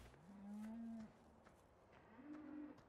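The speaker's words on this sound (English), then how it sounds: "Then right around the corner, we have our cows." Cows moo twice in the Farming Simulator 17 video game, two long, low, drawn-out calls separated by a short pause, faint and clean with no talking.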